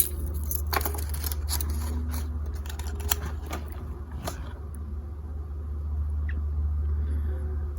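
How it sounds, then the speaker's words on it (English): A set of lock-picking jiggler keys jingles and clinks close by, with scattered metallic taps over a steady low background hum, busiest in the first half and then easing off. "my jiggler keys"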